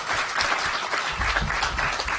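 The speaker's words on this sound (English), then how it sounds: "Give him a round of applause, people, please." A room full of people giving a steady round of applause for a colleague at a committee meeting, dense overlapping clapping held at an even level for a couple of seconds.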